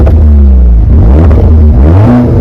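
Very loud, close revving from a 2025 Audi S3 with an upgraded exhaust, the engine note rising and falling in repeated throttle blips over a deep rumbling drone.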